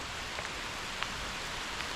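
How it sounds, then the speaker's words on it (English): Steady rain pattering on a forest trail, a close, even hiss of drops with a few sharper taps and no talking. "I am literally getting rained on."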